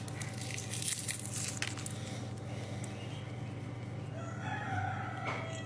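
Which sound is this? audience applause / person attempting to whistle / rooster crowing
rooster crowing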